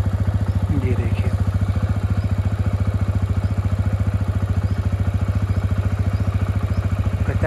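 TVS Apache RTR 160 2V BS6 motorcycle idling just after starting, a steady rhythmic close engine putter with light mechanical clatter, faint talk at the start.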